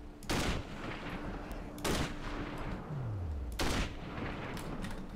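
Three loud gunshots in Sniper: Ghost Warrior ring out at roughly even intervals over a steady background hum, each sharp crack followed by a short echoing tail.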